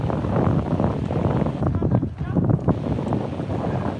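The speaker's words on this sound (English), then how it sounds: "that wind is real." Wind buffets a microphone outdoors on a street walk in Gdańsk, a steady low rumbling roar filling the whole stretch with a person talking over it.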